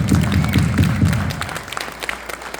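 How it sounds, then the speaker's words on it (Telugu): An audience at a Sankranti celebration claps for a children's skit, a short burst of dense applause that thins out and fades within a couple of seconds, with some crowd murmur. "కొంచెం గట్టిగా చప్పట్లు కొట్టి పిల్లల్ని ఎంకరేజ్ చేయండి"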